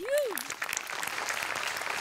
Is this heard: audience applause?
yes